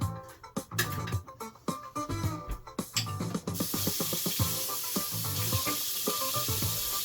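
An egg frying in a pan in a home kitchen, a steady close sizzle that swells and holds after a few seconds, mixed with clattering knocks and scraping from the utensils and pan earlier on.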